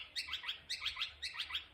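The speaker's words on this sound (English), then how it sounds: "Noisy miners, not the Indian miners." Noisy miner birds calling in a garden, three quick bursts of sharp, repeated chirping notes in a regular rhythm, moderately close and fairly faint, with no talk over them.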